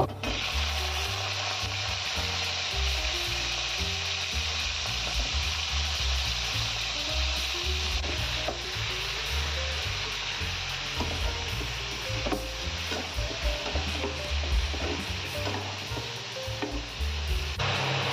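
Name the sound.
vegetables frying in a pan for spinach chorchori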